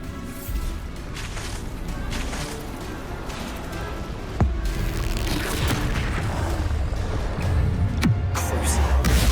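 Bombarda explosion spell going off in the Hogwarts Legacy video game, with two sharp booms standing out from a constant wash of combat noise and magic effects.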